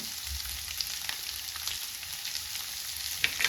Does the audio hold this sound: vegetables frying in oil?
yes